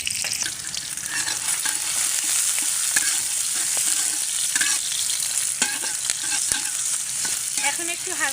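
Local garlic cloves and onion frying in a pan, a loud, continuous close hiss and sizzle with frequent small crackles and intermittent stirring; no one speaks.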